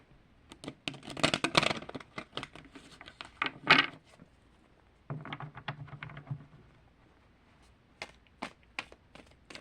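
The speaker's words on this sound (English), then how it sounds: "Trying to shuffle these as best I can. These are a little rigid." A deck of rigid tarot cards is shuffled by hand in close, crisp bursts of riffling and clicking. Longer runs come early and midway, then a few short, sharp snaps near the end, with quiet gaps between.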